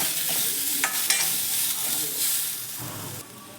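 Cluster beans frying in a little oil in a pan, with a steady close sizzle broken by a few short stirring scrapes and clinks.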